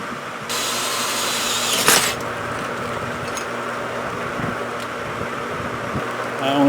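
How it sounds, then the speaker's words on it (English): A power drill bores out undersized holes in metal post brackets while building an outdoor rain shelter. It gives a steady, loud, close whine that runs almost the whole time, with a few short knocks. "Got to go drill them out."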